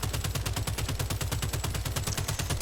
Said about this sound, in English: Here I'll flick to my SMG and just pop out all of its shots